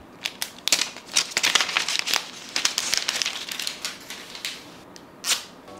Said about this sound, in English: let us go through a very quick unwrapping of the Find N2 Flip.